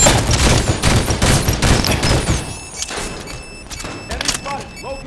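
Halo 5 online gameplay brings rapid bursts of automatic gunfire and sharp shots in quick succession, loud at first and then thinning into scattered reports and electronic game effects, with in-game voices.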